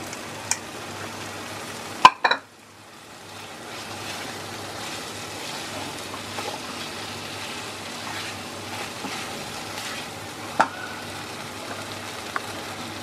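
Soybean chunks frying in a pan for a vegetarian curry, a steady soft sizzle that runs throughout, with a sharp clatter near the start and a few faint knocks.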